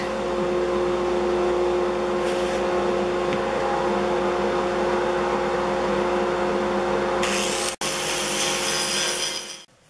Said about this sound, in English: So I think I'll hook up some suction. That means it's going to be noisy.